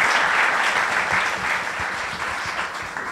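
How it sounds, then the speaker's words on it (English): A big round of applause from a conference audience for a panel on psychedelics and business, loud, dense and continuous clapping filling the room from start to finish. "If you could give them a big round of applause."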